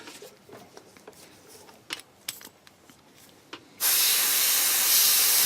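An airbrush spraying X20A thinner through to clean it: a few faint clicks, then a loud, steady close hiss starts about two-thirds of the way in and runs to the end.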